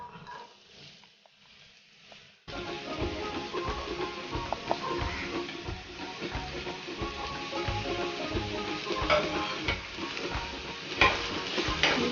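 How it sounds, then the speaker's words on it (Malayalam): Chopped onion hits hot oil for an egg roll filling, a quiet start giving way to a loud, steady sizzle and crackle of frying with occasional stirring scrapes, close and continuous. "എണ്ണ ചൂടായി വരുമ്പോഴത്തേക്ക് നമ്മൾ എടുത്തു വെച്ച സവാള അരിഞ്ഞത് ഇട്ട് കൊടുക്കാം."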